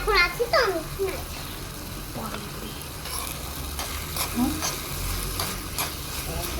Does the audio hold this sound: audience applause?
no